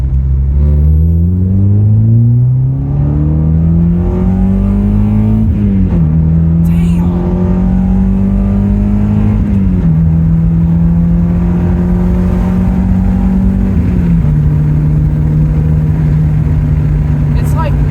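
Car engine revving hard and accelerating repeatedly while testing new stiffer coilovers for wheel hop, a loud close drone that climbs in pitch, drops at each gear shift and climbs again, with people talking over it.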